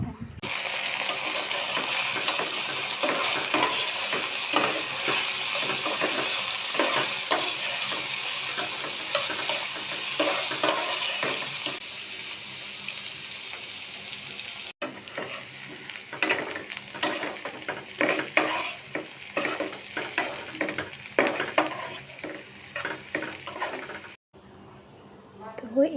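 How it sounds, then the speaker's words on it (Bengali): Chepa shutki, a dried fish, fries in hot oil with a continuous loud crackling sizzle and frequent stirring scrapes, and a voice talks over it at times. "এখানে আমরা এখন চাপা শুটকি কিন্তু গরম গরম তেলে ভেজে নিই।"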